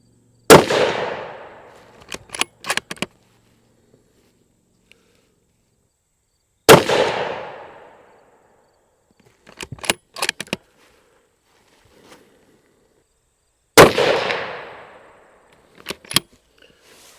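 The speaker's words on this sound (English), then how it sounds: "So let's shoot these groups, show you guys how it shoots." Bergara HMR Wilderness rifle fired three times at a range, loud sharp reports spaced several seconds apart, each followed by the metallic clack of the bolt being cycled.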